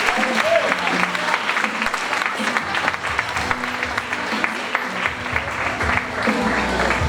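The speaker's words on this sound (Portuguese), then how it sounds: "Pode aplaudir para o Senhor" Church congregation applauding at a worship service, a steady dense wash of clapping from a large crowd that runs throughout, with faint voices underneath.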